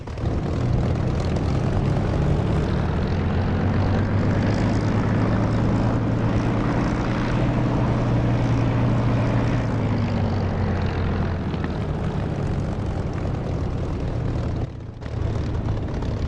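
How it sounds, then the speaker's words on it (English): Propeller aircraft engine in a combat flight simulator game, a loud continuous droning roar with a steady low hum that swells slightly in the middle, then briefly dips near the end, with no speech. "I just love the sound of this engine"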